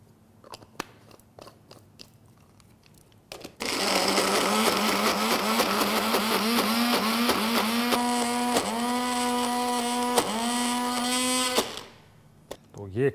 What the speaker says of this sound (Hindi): अब इस मिक्सचर को एक ब्लेंडर में डाल के पीस लेते हैं।